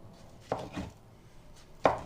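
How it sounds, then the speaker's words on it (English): A knife slices through raw beefsteak fungus (Fistulina hepatica), giving three soft, moist cuts that are close and fairly quiet, with short pauses between them and no talk. "just cut it into slices like that"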